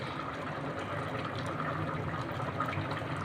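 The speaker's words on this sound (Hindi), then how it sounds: "अब मैं इसमें तकरीबन 1 कप डालडा कुकिंग ऑयल का डालूँगी।" Dalda cooking oil is poured into a pot of boiled black chickpeas, giving a soft, continuous liquid pouring sound that is close and fairly faint.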